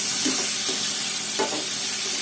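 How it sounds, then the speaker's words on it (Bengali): Tomatoes stirred into a spice masala that has been cooked down for a fish curry, with a steady close sizzle and soft scraping stirs running the whole time. No talking. "টমেটোগুলো মশলার সাথে আবার দুই এক সেকেন্ড একটু নাড়াচাড়া করে"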